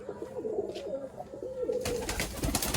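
Pigeons, many of them unwell, gather eagerly to feed on grit, cooing in low warbling phrases nearby before a burst of scratchy fluttering and shuffling closes the sequence.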